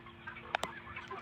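Chickens in a chicken tractor give two short, quick squawks in close succession, faint and brief over a quiet low hum.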